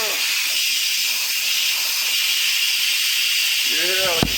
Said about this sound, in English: We're just going to do the quick release. Steam's going to come up.